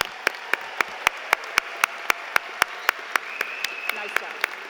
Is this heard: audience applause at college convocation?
yes